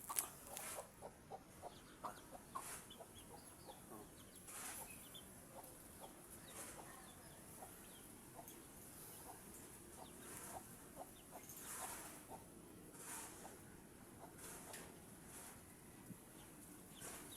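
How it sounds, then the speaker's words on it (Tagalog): Chickens, including newly hatched chicks, cluck softly in short scattered bursts over a steady outdoor background hum, with a few higher peeps and chirps mixed in. "manok"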